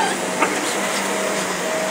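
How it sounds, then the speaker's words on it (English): A steady, droning mechanical hum runs evenly throughout, like a vacuum cleaner motor running nearby, with a faint brief knock partway through. "That's a bad vacuum."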